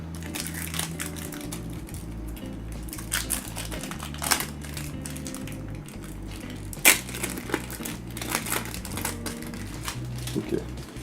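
The packaging of a Remington Genius beard trimmer is opened by hand, giving close crinkling, crackling and tapping of plastic and cardboard with a few sharper snaps, sparse and moderately quiet throughout.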